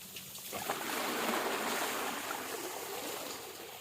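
Water drawn up from an old well in the Cholistan desert gushes out, a rushing, splashing flow that starts abruptly after a short pause and then pours steadily without voices.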